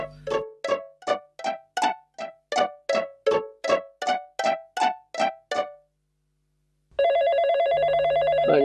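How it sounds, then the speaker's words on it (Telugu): A telephone bell rings in a rapid repeating pattern of about fourteen short bursts, loud and close, then stops; after a brief silence a steady electronic tone begins. "ఫోన్ లిఫ్ట్ రింగ్ అయితే లేపుతలేరు"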